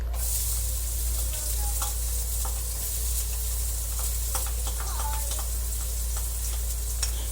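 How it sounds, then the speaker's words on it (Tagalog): Onion sautés in hot oil in a pan, a steady close sizzle with occasional stirring clinks and scrapes, for pancit bihon guisado. "Magigisa po tayo ng sibuyas at bawang. Unahin po natin ang sibuyas."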